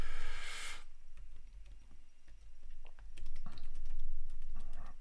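Fingers typing a password on a computer keyboard, a run of close, crisp key clicks in uneven bursts with short pauses between them, no voices.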